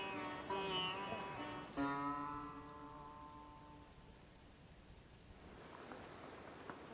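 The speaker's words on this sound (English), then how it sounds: "It's still pouring with rain." Steady pouring rain in the mountains of the Sherpa homeland, a dense continuous hiss of drops on surfaces with no voices, holding at an even level throughout.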